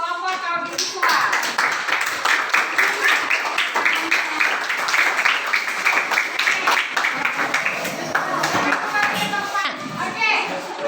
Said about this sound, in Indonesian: kita kasih tepuk tangan untuk kelompok audit visual